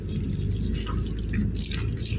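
A slowed garden hose sprays water over a backyard vegetable garden, making a continuous close splashing and pattering rush with no pauses.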